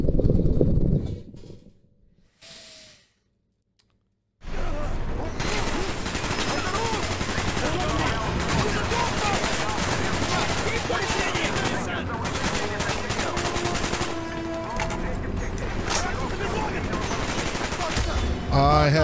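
Dense, sustained gunfire fills a Call of Duty: Black Ops match, shotgun blasts mixed in with rapid automatic fire. It begins with a brief burst, drops to near silence for a moment, then runs loud and continuous to the end.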